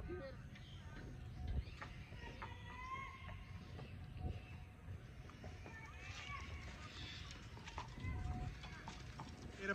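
Hooves of a Marwari mare clip-clop in a loose, uneven rhythm on hard ground outdoors, moderately close, with voices talking and calling over the steps.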